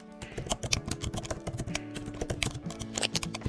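Rapid keystrokes clatter on a computer keyboard as a zip code search is typed into Google, a quick uneven run of close, crisp clicks with no voice.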